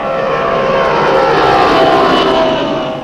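A model plane's propeller engine drones steadily and loudly close by, a continuous buzzing whine that holds level and fades slightly at the end.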